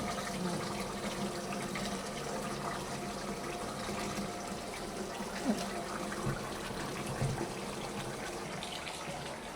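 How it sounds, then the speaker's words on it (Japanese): A plant-dyed stole, colored with henbit dead-nettle, is rinsed by hand under a running tap, with steady water streaming and splashing throughout and a few louder splashes as the cloth is moved. "この時にこういう小さな葉っぱとかもね取ってすすいでください。"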